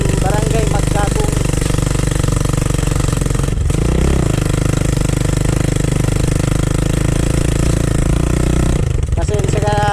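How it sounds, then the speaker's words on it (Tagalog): A motorcycle with a holed, unwelded muffler riding along a road near Sibonga, Cebu, a loud, harsh, rattling engine drone that runs almost without a break, with one short dip partway through. "gamit na motor kasi medyo maingay, butas na kasi ang butson niya"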